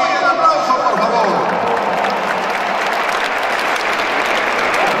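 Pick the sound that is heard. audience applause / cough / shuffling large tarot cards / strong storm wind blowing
audience applause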